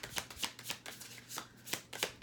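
Slippery Spellcaster tarot card deck being shuffled, quiet close riffling bursts in quick uneven succession, several short rustling flurries with no talking.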